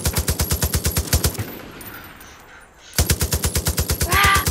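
Rapid automatic gunfire in the game Far Cry, a fast even rhythm of loud shots that stops for about two seconds, then resumes just as rapidly.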